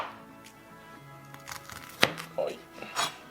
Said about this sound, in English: I'm just gonna thinly slice these shallots